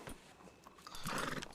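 A horse whinnies and its hooves clop on the ground, with a rising neigh near the end over faint ambient noise and no talking.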